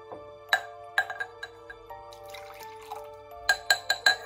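Matcha trickles into a glass in sparse, ringing drips and small splashes, a few separate drops followed by a quick cluster near the end, close and clear with no talking.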